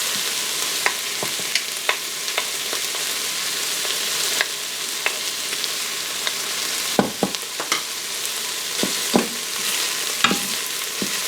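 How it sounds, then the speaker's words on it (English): Tomato paste and vegetables sizzling in an Instant Pot for freezer-raid chili, a steady broadband fry with scattered sharp clicks and scrapes of a spoon stirring, close and continuous without speech. "I want to try to cook the tomato paste down a little bit."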